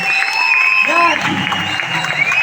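Loud crowd applause and cheering in Vishnudas Bhaave Hall, Vashi, during a company event, a continuous wash of clapping with voices and some shouting over it.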